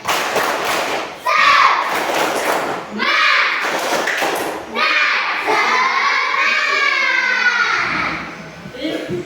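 A classroom of children performs the tepuk semangat clapping chant, loud and close, with voices shouting in unison over rhythmic claps and thumps in several bursts separated by short pauses.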